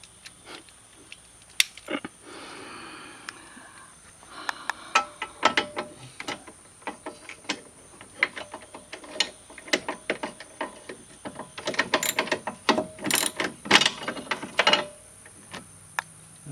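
A ratchet tightening bolts on a Polaris Ranger rear bumper, with repeated bursts of close metallic ratcheting clicks separated by pauses and some clanks.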